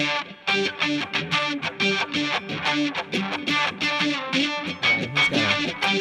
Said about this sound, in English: Mine is just overdrive with a little bit of reverb.